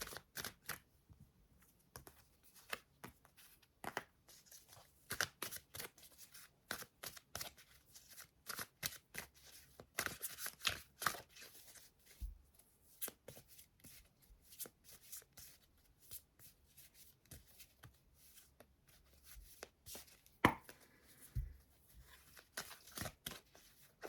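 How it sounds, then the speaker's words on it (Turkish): A deck of tarot cards is shuffled by hand, with rapid papery riffles and soft flicking clicks in irregular bursts, close and fairly quiet, continuing for over twenty seconds with brief pauses. "Evet şimdi üçüncü destemize gelmeden karıştırayım."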